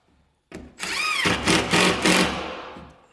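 A power drill drives a 1.25-inch sheetrock screw through sheetrock into a piece of wood held behind it: the motor whirs up sharply, rises in pitch and grinds loudly for a couple of seconds before winding down.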